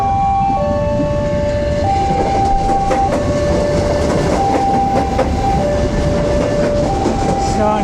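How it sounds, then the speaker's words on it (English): A train pulls into a busy Jakarta station, a loud steady rumble of wheels and carriages with clanking rail clicks and sustained horn-like tones sounding close throughout. "here comes the train"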